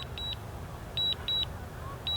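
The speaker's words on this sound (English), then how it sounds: "you're going to hear a lot of beeping in this video" Short electronic beeps in quick pairs from a DJI Mavic Mini drone controller, clear over a quiet low rumble, repeating irregularly with brief pauses between.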